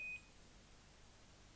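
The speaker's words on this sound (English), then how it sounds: "It goes beep." A single short, high electronic beep from a 2003 Siemens C60 mobile phone turning off, then quiet background hiss.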